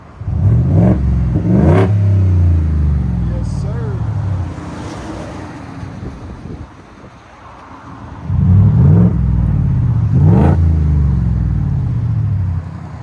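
A deep 5.0L V8 engine of a 2025 Ford F-150 pickup with a Dynomax Race Bullet exhaust revs hard twice, rises to a rumbling roar, settles, then revs up again in two more bursts, loud and close.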